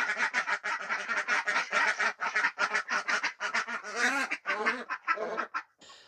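Ducks quack loudly and rapidly close by, many calls overlapping in a busy, continuous chatter.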